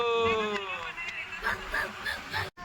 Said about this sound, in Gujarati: આઈ રહ્યો કૂતરો.